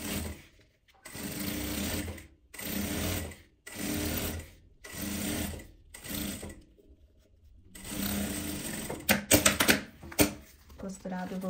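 Sewing machine stitching the lining fabric of a thermal bag separately from the main fabric while attaching a zipper, running in about six steady bursts with short pauses between them, then a longer final run with some handling clatter.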